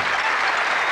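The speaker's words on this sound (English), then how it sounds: "Give him a round of applause." A brief burst of dense clapping from a TV game show studio audience on Bullseye, steady and fairly loud.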